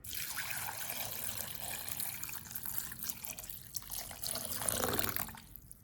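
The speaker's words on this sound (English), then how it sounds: "everything begins slowly with washing the turmeric" Fresh turmeric roots are washed by hand under running water, with a steady stream from the tap and soft splashing and trickling as the pieces are turned.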